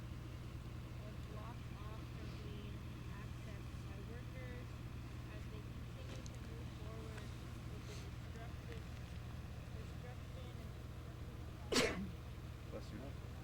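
A single sharp sneeze cuts through a steady low engine hum outdoors near Line 3 construction, with people talking nearby.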